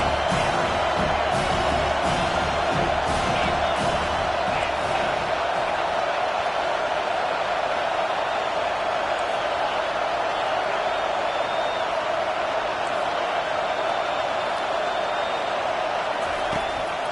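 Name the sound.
home crowd cheering at a football game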